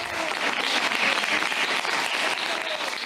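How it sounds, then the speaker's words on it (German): Virtual audience applause rewards a musician: a continuous, dense wash of many hands clapping, even and sustained throughout. "von seinem Publikum mit einem langen Applaus belohnt wird"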